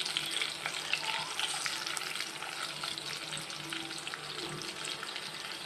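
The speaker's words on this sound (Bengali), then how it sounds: "পেঁয়াজটাকে একটু ভালোভাবে ভেজে নিব।" Chopped onion frying in oil in a pan, the same oil used earlier for frying fish, giving a soft, steady hiss of sizzling with faint stirring at close range and no talking.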